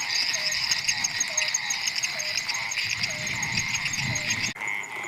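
After heavy rain in Kokan Rajapur, a thick chorus of croaking frogs and trilling insects carries on steadily, with a brief knock near the end.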